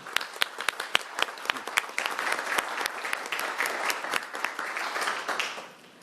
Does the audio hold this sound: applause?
yes